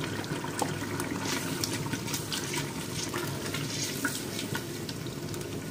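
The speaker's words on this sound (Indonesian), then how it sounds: "Ni nanti kita letak air ya." Water poured into a cooking pot with spiced beef for dalca, a steady close splashing and bubbling rush that is fairly quiet and continuous, with no talk.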